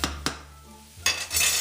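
Sliced mushrooms cook down in a pan for a from-scratch tuna noodle casserole, with sharp utensil scrapes and clinks against the pan over a faint steady sizzle, close and short.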